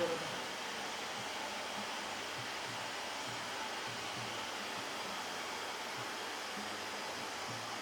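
An Agaro Twister 2200-watt vacuum cleaner runs in blower mode, giving a steady, loud, broadband rushing whoosh that holds unchanged throughout, with no speech over it.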